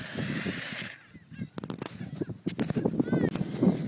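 A goose-like bird honks repeatedly at a beach, loud and close, amid shouting voices and general outdoor commotion.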